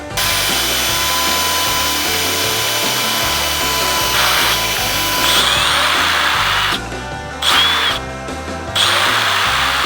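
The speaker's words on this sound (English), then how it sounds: "So I'm gonna drill these out." A power drill bores holes through a metal bracket made for mounting ignition coils, whining loudly and continuously with brief pauses and restarts near the end, with no voices.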